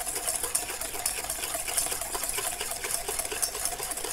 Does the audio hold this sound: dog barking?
no